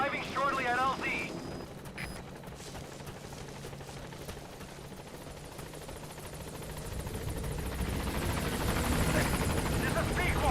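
Pequod support helicopter in Metal Gear Solid V: The Phantom Pain arriving at a landing zone, a steady rotor roar that grows louder toward the end, with brief radio-style chatter near the start.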